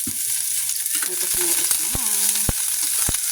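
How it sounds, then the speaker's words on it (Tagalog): Garlic and onion sizzle in hot oil in a pan for chicken adobo, a steady bright frying hiss broken by sharp clicks and scrapes of a utensil stirring against the pan. "magsusutay na tayo ng bawang sibuyas"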